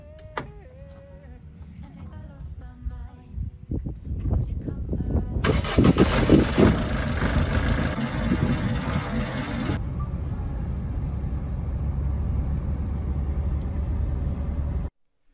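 Car engine cranking and catching, then settling into a steady low idle, with a mid-clip burst of louder broadband noise and someone speaking at the start.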